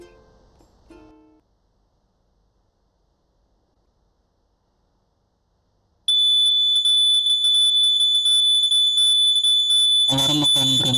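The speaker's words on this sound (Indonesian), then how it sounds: "maka akan otomatis aplikasi membunyikan alarm." A drowsiness detection app for drivers sounds its alarm after a quiet stretch, a loud, steady high-pitched electronic tone that starts abruptly and holds, joined near the end by harsher pulsing sound.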